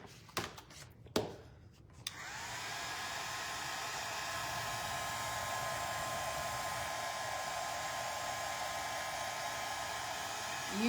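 A hair dryer starts after a few sharp knocks and handling sounds, then blows in a steady, loud whoosh as it dries paint on a wooden spindle hot air balloon craft.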